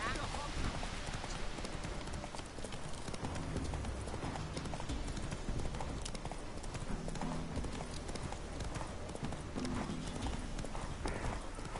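Hooves of the horse Roach clip-clop steadily through The Witcher 3: Wild Hunt, a continuous galloping rhythm over dense game ambience, with a voice talking on top throughout.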